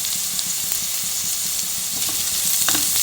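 Chopped cabbage dropped into a pan of softened onions for veg momo filling sizzles and hisses steadily, a loud continuous frying sound with light stirring scrapes.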